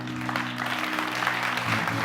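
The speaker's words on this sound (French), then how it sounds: "Merci de les applaudir." Steady audience applause fills a TV show set, a dense continuous patter of clapping at moderate volume with a low hum beneath it and no clear speech.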